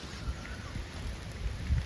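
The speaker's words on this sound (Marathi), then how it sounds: "पाऊस पडतोय पाऊस पडतोय" Rain falling over an outdoor market during a downpour, a steady low wash of patter and splashing with no distinct drops standing out, moderately loud and continuous throughout.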